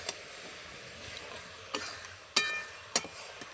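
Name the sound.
stirring jujube pickle with roasted spice mix in a pan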